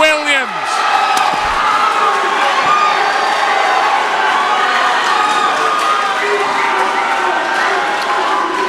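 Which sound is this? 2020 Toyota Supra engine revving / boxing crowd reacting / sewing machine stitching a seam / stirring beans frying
boxing crowd reacting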